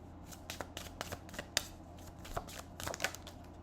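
Handmade reading cards are shuffled close by in a quiet room, a rapid run of soft papery riffles and flicks with a few sharper snaps.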